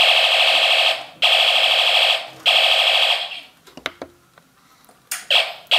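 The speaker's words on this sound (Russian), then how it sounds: "Во, сработала на свет сигнализация." A harsh homemade electronic alarm, built from an electronics kit and triggered by light, blares in loud repeated bursts, then stops for a moment of clicks and rustling before sounding again briefly.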